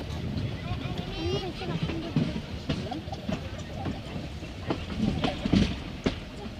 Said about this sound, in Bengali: লামডিং জংশন সেখানে ট্রেনটা এসে পড়েছে